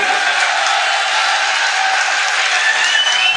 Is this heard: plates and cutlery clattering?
no